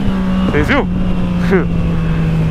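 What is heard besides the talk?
Yamaha MT-09 motorcycle engine accelerating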